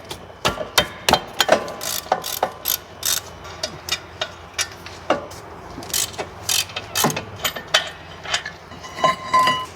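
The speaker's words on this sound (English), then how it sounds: "Now with an 18mm, I will remove the caliper bracket." Wrench clicks and metallic clanks while an 18mm wrench loosens the brake caliper bracket on a BMW 650i, a series of sharp, close ratcheting taps and knocks in irregular bursts.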